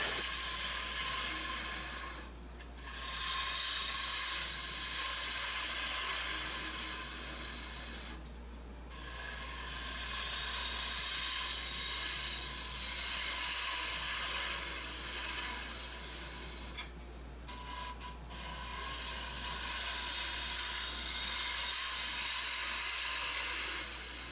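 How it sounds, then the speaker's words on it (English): Bowl gouge hollowing out a wooden bowl on a lathe, a steady rasping, hissing cut over a constant motor hum, broken by three brief pauses as the tool lifts away, with no talking. "just going to work my way down using a bowl gouge here"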